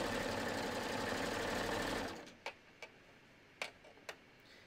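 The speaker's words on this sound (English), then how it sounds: "we're going to start serging here" A serger runs a continuous, steady mechanical whir for about two seconds while stitching a T-shirt seam. Then it stops, leaving a few sharp separate clicks and taps in quiet.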